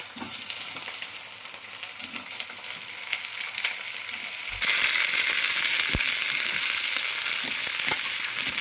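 Broad beans sizzle in a pan with onion and green chillies, a steady frying hiss that jumps louder midway as the beans go in, with occasional stirring clatter and no talking.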